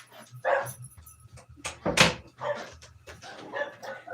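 A dog in an indoor room gives a series of short barks and yips, with the loudest bark near the middle and quieter ones before and after.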